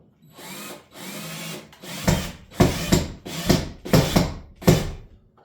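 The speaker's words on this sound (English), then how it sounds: "putting some screws in" A power drill drives screws into scrap lumber, with several loud whirring bursts up close, the later ones punchier and more clipped as each screw bites into the wood.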